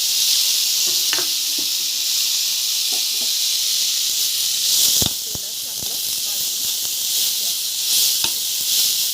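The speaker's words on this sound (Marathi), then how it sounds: "कढईमध्ये तेल घातलंय त्याच्यामध्ये ते मटकीचे मोड घाला आणि तेलात आहे ना भाजून घ्या आधी" Sprouted moth beans (matki) sizzle as they fry in hot oil in a kadhai, a steady close hiss with scattered crackles and a few sharper pops.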